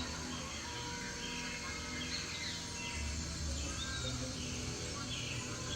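Parrots call with scattered squawks and chirps inside a tropical rainforest museum, set within a steady, dense background hum of the indoor exhibit.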